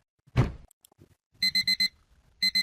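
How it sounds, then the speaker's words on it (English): An alarm clock blares close and loud in two bursts of rapid electronic beeps, four quick beeps then two more, after a soft thump and rustle, with no talking. "You would awaken to the rude blaring of your alarm clock."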